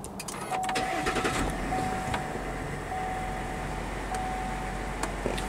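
A 2020 3.0L Duramax diesel truck cranks with a few clicks, then settles into a steady, moderately quiet idle hum with a faint intermittent whine.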